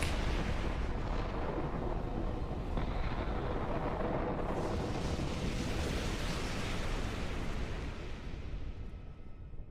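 Missiles launch and explode in The Hundred Line - Last Defense Academy video game: a dense, loud, continuous roar of overlapping blasts and rumbling that tapers slightly toward the end, with no voices.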